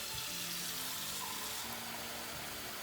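Water runs steadily from a faucet into a pot, a continuous close rushing flow with no pauses.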